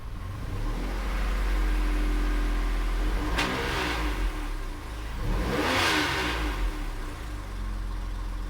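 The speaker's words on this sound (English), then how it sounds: "It just sounds really weird, like it's missing on a couple of cylinders or something." A 2014 Dodge Journey's 3.6 engine runs rough and uneven, sounding as if it misfires on a couple of cylinders, with two surging revs standing out over a steady nearby drone.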